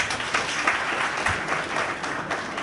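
Crowd applause at a public government accountability gathering in Parakou, Benin. Dense, even clapping from many hands runs throughout at a steady moderate loudness, with no clear voices over it.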